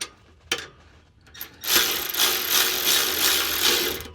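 Muffler clamp bolts on a Subaru WRX axle-back exhaust are tightened with a ratchet, a couple of isolated clicks followed by a steady, loud run of rapid ratcheting close by.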